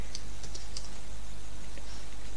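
Someone typing on a computer keyboard, close up: quick, irregular light clicks and taps over a steady low background hum.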